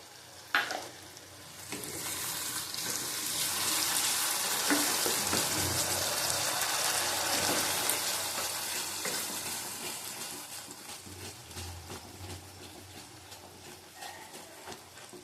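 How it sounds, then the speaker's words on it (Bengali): Sour curd and spice masala for doi bhetki sizzle and fry steadily in a pan over lowered heat, with scraping stirs throughout; the hiss swells in the middle and eases toward the end, with no talking. "আঁচ কমিয়ে কমিয়ে ভালো করে কষাতে হবে।"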